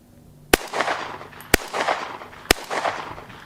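Three sharp gunshots fired one at a time in semi-automatic mode, about a second apart, each loud and close with a short echoing tail afterward, at an outdoor day with an explosives expert.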